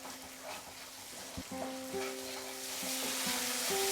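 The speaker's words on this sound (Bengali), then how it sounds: "এবারে আমি ফ্লেমটাকে বাড়িয়ে দিয়ে এটাকে আরেকটু কষিয়ে নেব।" Bengali fish curry masala for shankar macher jhol frying over a high flame, a low steady sizzle that swells slightly, joined by sustained tonal hums and a brief knock, no voices.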